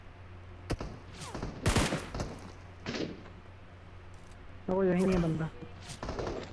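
Gunfire in the mobile battle royale game PUBG Mobile sounds as a few sharp, separated shots cracking out against a quiet background, while a player talks over the game audio.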